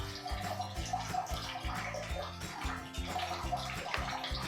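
Egg masala curry bubbling in a cooking pot as it comes to the boil, a steady close gurgle with irregular pops and splutters throughout, no talk over it.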